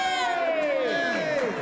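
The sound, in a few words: crowd cheering at Salt Lake City news conference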